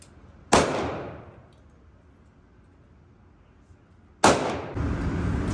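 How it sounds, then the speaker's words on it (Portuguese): Gunshots at an indoor shooting range, two sharp loud bangs several seconds apart with ringing decay and background room noise after the second. "Tá atirando agora também. Ó, continua atirando lá."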